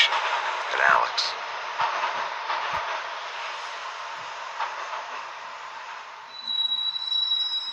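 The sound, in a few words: train ride sound from the video game Max Payne Mobile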